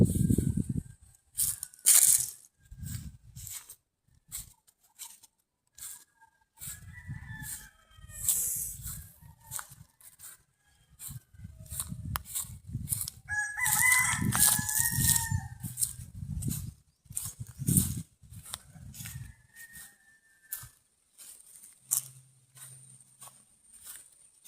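Chickens and roosters in a forest, with rooster crows and clucking scattered across the stretch amid rustling and crunching sounds nearby, fairly close and moderately loud.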